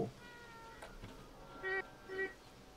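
A cat meows in the video game Stray, two short close meows following a few faint taps and game sounds.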